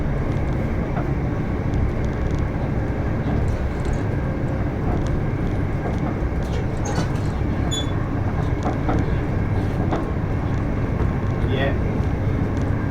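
Greater Anglia passenger train running between Liverpool Street and Southend Victoria, heard from inside the carriage as a steady low rumble and rolling noise with occasional faint squeals, with someone talking on the phone over it.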